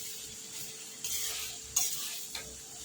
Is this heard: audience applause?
no